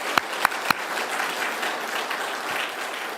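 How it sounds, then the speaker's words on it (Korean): A church congregation at Sunday worship applauds its choir. It opens with three sharp, close claps, then a soft, even wash of applause continues, with no voices. "따뜻한 박수로 우리 성가대"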